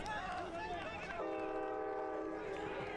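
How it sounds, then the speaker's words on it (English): A train passes near a soccer stadium during a match, its horn sounding a long sustained chord over the rumble of the cars while voices carry underneath. "Train perhaps drowning out some coarse words towards the referee"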